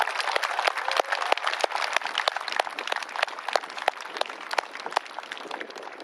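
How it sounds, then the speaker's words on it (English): Scattered, fairly faint handclaps from a modest outdoor crowd at a Black Lives Matter educational rally in Menomonee Falls, Wisconsin, keeping up an irregular rhythm without voices on top. "I just want to give a round of applause to everyone and the people who organize this."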